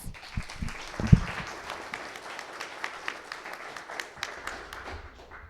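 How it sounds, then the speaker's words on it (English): A conference audience at a world religions event claps for its speakers, producing fairly quiet, scattered applause with a few sharper individual claps standing out, tapering off across several seconds. "a big round of applause again for our speakers"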